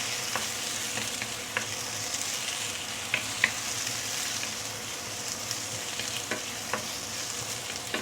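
Shiitake mushrooms, rehydrated, sauté in a hot pan with browning garlic and ginger, giving a steady close sizzle broken by scattered utensil scrapes and light clicks of stirring, with no voices.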